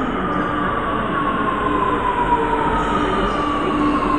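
A metro train pulls into a station platform in Prayagraj with a loud, continuous rumble and a high squealing wheel tone that slowly falls in pitch, steady throughout without speech.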